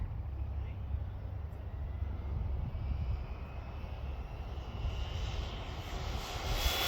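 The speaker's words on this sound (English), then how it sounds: "That was full throttle for the blip of a second." A Louise RC LRX model car runs at full throttle outdoors, a steady, loud high-pitched motor whine with a broad rushing roar that holds without a break and swells slightly near the end.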